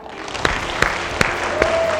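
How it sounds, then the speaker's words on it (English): Audience clapping at a primary school assembly, a dense, steady patter of many hands filling the room with a few sharper claps standing out and a faint voice underneath. "Should we give Miss Barrett a big clap?"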